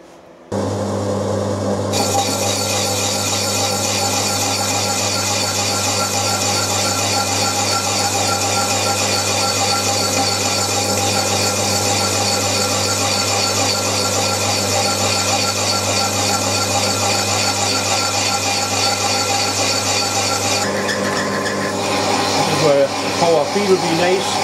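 A machine cuts a hand-fed workpiece in a taking a 0.5 mil per side pass, with a loud, continuous grinding whir for about twenty seconds before it winds down.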